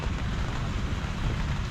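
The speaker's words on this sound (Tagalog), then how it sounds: "Yun ang hinahanap-hanap natin ng umaga, ulan." Morning rain falls steadily on an outdoor trail in Casiguran, Aurora, a dense constant hiss close by with no voices, heard in a short unbroken stretch.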